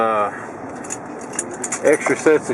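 Jangling set of car keys with a remote start fob for a 2015 Chevrolet Suburban LT, a short metallic rattle at the start followed by light clinks while a person talks over it.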